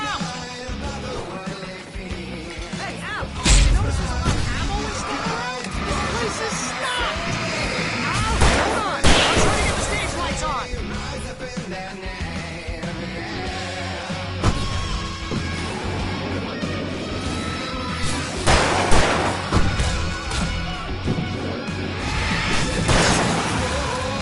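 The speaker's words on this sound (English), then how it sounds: "I can set off more of the fireworks from here and help you out!" Fireworks go off in a PS5 video game amid chaotic combat, with repeated booms, crashes and whooshing bursts layered over dense, busy game sound.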